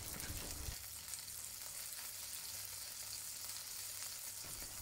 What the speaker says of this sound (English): Flip the fillet to pan fry the other side.